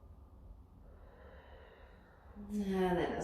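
Steady slow breathing during a yoga pose, soft and close at first, then swelling into a louder, audible exhale or sigh near the end.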